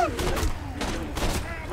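Gunshots ring out from a gun in the video game Borderlands 2, three heavy bursts of fire in quick succession over dense, continuous game noise.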